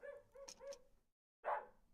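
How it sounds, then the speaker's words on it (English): A dog barks a few times nearby in a quiet room during audiobook recording: a quick pair of yaps, a short pause of silence, then one more sharp bark, heard alone with no talking. "My dog is narrating more words than I am at this point."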